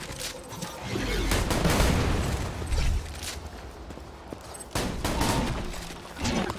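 Repeated shotgun blasts and gunfire in Borderlands 2, booming bursts clustered through the clip with brief gaps, loud and close amid continuous game combat noise.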